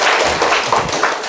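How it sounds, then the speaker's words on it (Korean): Brief burst of audience applause in a lecture hall during a real estate broker mock exam class, scattered hand claps at close range lasting just over a second. "저분이 박수 한번 주세요."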